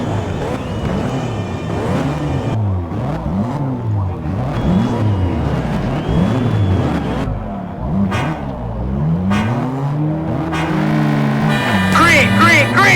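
Race cars in a night race in Need for Speed: Shift 2 Unleashed, engines revving hard and repeatedly rising and falling in pitch as gears shift, several cars close together and loud, with a voice heard briefly.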